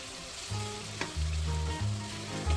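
Pork and vegetables frying in a pan for a stir fry, a dense continuous sizzle with a low, pulsing hum running underneath throughout.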